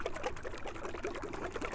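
Fine metallic paint base, a House of Kolor additive, pouring steadily into a small mixing container, a soft continuous liquid trickle close by with no talking.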